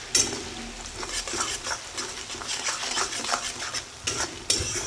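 Sliced onions frying and sizzling in a pan for a homemade masala, with a spoon scraping and stirring repeatedly at close range, a steady sizzle underneath and sharper clinks of metal on the pan.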